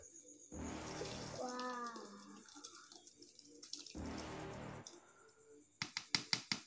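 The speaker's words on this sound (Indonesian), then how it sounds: "Ini sekarang kita coba tuangkan ramuan daun kaktus dan berbagai macam rempah-rempah tadi." A herbal mixture of cactus leaf and spices is poured into catfish feed, making two broad, splashy pours with a faint voice between them, followed by a quick series of sharp ticks.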